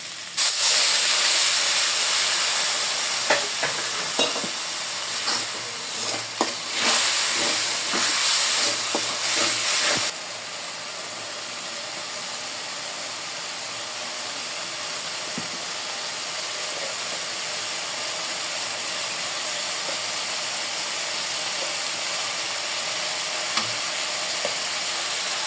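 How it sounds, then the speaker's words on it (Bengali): Spice masala frying in a karahi with added water, a loud steamy hiss and sizzle with a few stirring scrapes for the first ten seconds, then a quieter, even simmering hiss for the rest. "মশলাটা 5 মিনিটের মতো কষায় নেব"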